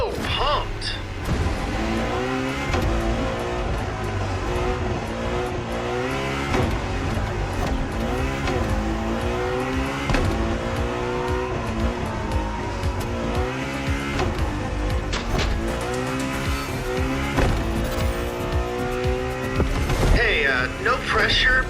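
Lamborghini and Ferrari cars race in The Crew Motorfest on PS5, with engines revving and whining through gear changes and tires squealing, while a voice talks over the game sound throughout.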